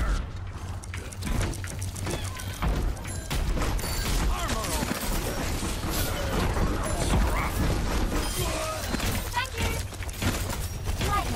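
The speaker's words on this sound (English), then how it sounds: "Let's hear those guns! Turrets under fire!" Dense gunfire and clattering turret fire in an Overwatch match, a constant loud mix of rapid shots and mechanical crackle under game voices.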